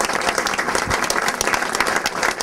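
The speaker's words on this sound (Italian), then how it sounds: "meritano da stasera in avanti un grosso applauso" Applause at an Italian press conference presenting new players, a dense crowd clapping steadily and fairly loudly for the whole stretch with no break.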